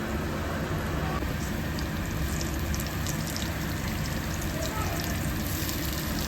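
Garlic and curry leaves crackle in hot oil while tempering for a Kerala-style fish curry, a dense, steady sizzle that holds loud and unbroken throughout at close range.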